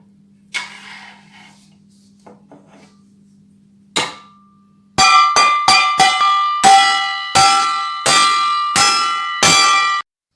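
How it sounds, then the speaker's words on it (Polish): Dishes are struck one after another in a sound-wave experiment, a few soft taps then about a dozen bright ringing clangs in quick succession, each resonating briefly. "Za chwilkę uderzymy w naczynia."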